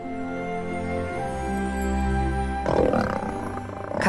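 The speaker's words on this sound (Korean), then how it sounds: "갑자기 다가온 암사자에게 숫사자가 돌연 사납게 굽니다." A male lion feeding with his pride turns on an approaching lioness, letting out a long low rumbling growl that swells into a louder harsh roar near the end, heard close and without talk.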